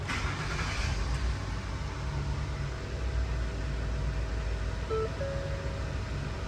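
A car engine starts and then settles into a steady, low idle drone throughout, with a faint tonal whine near the end and no speech.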